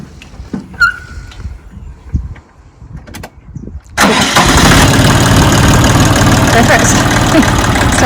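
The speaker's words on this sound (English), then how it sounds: "Try starting it." A Siromer 304 tractor engine, just bled, cranks briefly after quiet talk and catches at once, settling into a loud, steady diesel idle that fills the rest of the clip.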